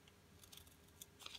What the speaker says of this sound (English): So what you'll do is you'll take your scissors